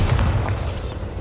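Bombarda blasting spell from Hogwarts Legacy erupts as a heavy, low booming explosion, loud and close, rumbling briefly before fading within about a second, with no talk.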